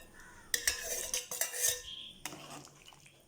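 A spoon gently mixes coconut milk into a bone-in beef stew in a pot, giving a quick run of close metallic clinks and scrapes against the pan, then a quieter stretch with a couple of softer taps.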